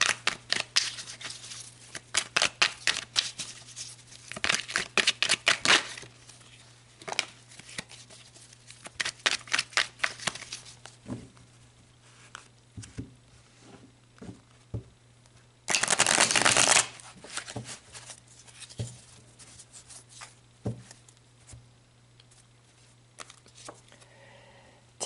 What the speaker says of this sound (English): let's pull some more cards and look at it more from the relationship